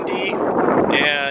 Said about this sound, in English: it is, as always, kind of windy